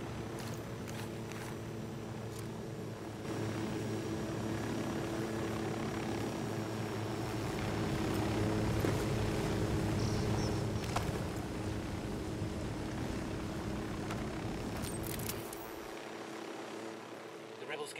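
A military drone flies overhead during a combat assault game scene, a steady droning engine hum lasting throughout under radio-style talk and background noise, dropping off near the end.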